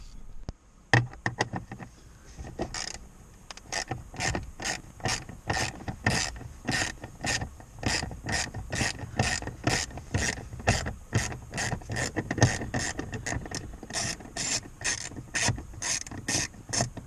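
A 7mm screw is backed out of a 2015 Jeep JK with a long, steady run of fast ratcheting clicks, close and fairly quiet, with no talking.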